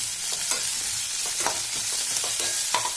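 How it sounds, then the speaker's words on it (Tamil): Onions sizzle steadily in a pan on the stove during the making of paneer butter masala, with scattered soft scraping clicks of a spoon stirring them throughout. "வெங்காயம் நல்லா வதங்கட்டும் ஒரு ஃபைவ் மினிட்ஸ் வெங்காயம் வதங்கட்டும்"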